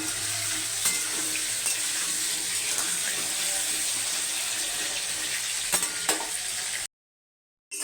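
Potatoes frying in hot oil give a steady, close hiss with scattered pops and crackles and occasional stirring scrapes, then a sudden cut to near silence at the end.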